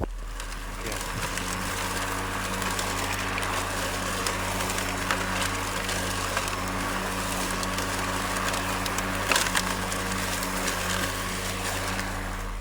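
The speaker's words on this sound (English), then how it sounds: "I'm going to mow this area again" Greenworks 80V battery self-propelled lawn mower cutting through thick grass with side discharge, a steady close motor whine and blade hum with constant rustle, continuous and fairly loud throughout.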